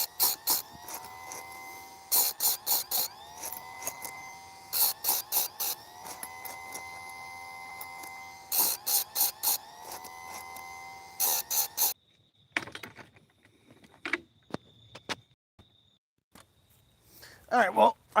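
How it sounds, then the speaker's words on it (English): A chainsaw chain being sharpened gives short rasping, whining bursts in repeated rhythmic groups, close and fairly loud, then quieter scattered scrapes and clicks. "I was sharpening some chainsaw blade"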